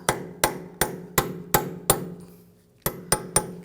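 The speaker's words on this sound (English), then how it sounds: "Just choose a chisel and just try to bend it back a little bit." A hammer strikes a chisel against a peened-over rear axle nut on a 2007-2013 BMW 328i in nine sharp metallic blows, evenly spaced with one short pause, each ringing briefly and close.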